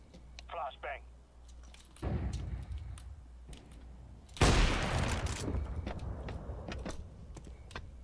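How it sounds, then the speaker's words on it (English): A flashbang grenade goes off in Counter-Strike with a sharp, loud crack and noisy ringing decay, preceded by a smaller thud and with players' voices talking around it. "Flashbang."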